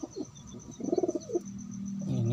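Pigeons coo softly in a pulsing, throaty run at close range, followed by a lower sustained tone toward the end, with no talk over them.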